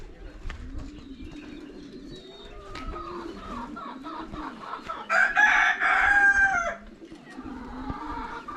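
Pigeons coo and birds call in a UAE animal area, low repeated soft coos with a louder burst of bird calls midway, mixed with faint background voices and ambient noise.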